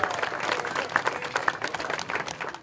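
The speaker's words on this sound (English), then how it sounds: "Let's give him a round of applause." A ribbon cutting ceremony crowd gives a brief round of applause for the DJ, moderately close, with scattered claps and a little crowd murmur.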